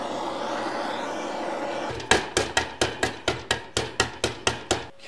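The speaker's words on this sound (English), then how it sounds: "hammer that in" Hammer strikes drive a bearing into a heated case of an early classic VW swing-axle split-case gearbox. After a quiet stretch of workshop noise, about eleven sharp, close, evenly spaced metallic blows ring out, each decaying quickly.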